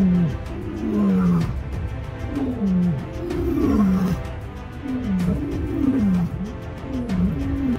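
A lioness and a male lion in the wild give repeated deep roaring grunts, about eight in a rhythmic series. They are loud and close, with no talk over them.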